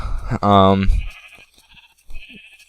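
A sheep in the Minecraft FTB modpack lets out one clear, close bleat with a wavering tone, and a person talks briefly before and after it.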